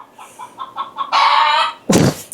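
Outdoors in rural Kahalu, a rooster gives a string of short clucks, then a longer loud call, followed by a sharp burst near the end. No voices are heard.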